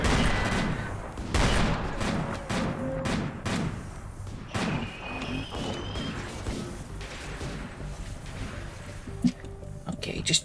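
Gunfire while shooting enemies in the Metal Gear Survive video game, rapid repeated shots and thuds running throughout with a voice talking over them.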